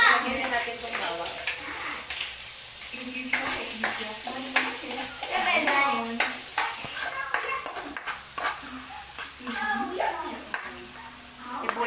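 Garlic sautés in hot oil in a wok, a steady close sizzle with frequent scraping stirs from a spatula, while a person talks over it throughout.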